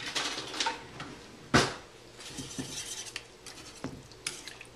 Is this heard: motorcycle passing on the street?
no